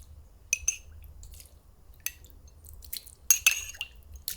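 Water is poured into a pot of dried sweet potato stems seasoned with soup soy sauce, making close, brief splashes and drips in a few uneven bursts against a quiet background.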